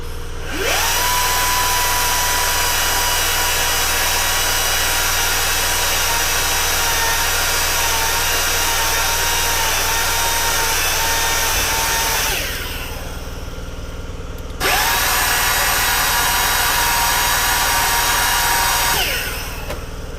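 A power tool grinds small metal metering rod clips, a loud steady high whine running near-continuously for about twelve seconds, dropping out briefly, then resuming for several more seconds before stopping.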